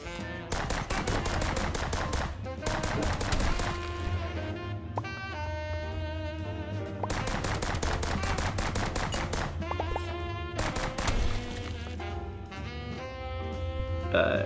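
Rapid submachine-gun bursts from a video game, loud and close, firing in long sustained strings with brief pauses between volleys over a continuous droning backdrop.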